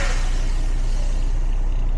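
Air brakes being set on a truck tractor during a basic control skills driving test: a loud, steady, unbroken hiss of released air lasting the whole two seconds.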